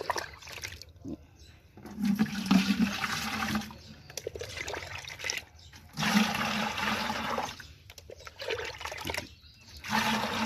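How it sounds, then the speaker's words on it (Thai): Rice-washing water scooped with a watering can and poured over chilli plants, giving splashy bursts of pouring and trickling water in two or three loud rounds with quieter pauses between. "ก็จะใช้บัวรดน้ำนะครับ เราก็ตัก"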